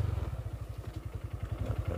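A small motorcycle engine idling unevenly and sputtering, with a steady low, throbbing chug and loose clattering pulses, heard up close and alone on a rural irrigation inspection road.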